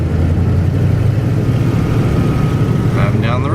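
Inside a 1988 TravelCraft 20-foot Class B motorhome driving down the road, a loud, constant engine and road drone with steady low rumble throughout.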